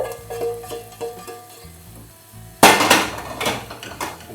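Onions drop into a hot pan and burst into a loud, sudden sizzle after a stretch of quiet tapping and clinking of utensils and dishes.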